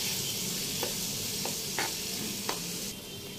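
Pasta being stirred in a hot pan, a steady loud sizzle with several distinct scraping strokes of the utensil at irregular intervals and no talking.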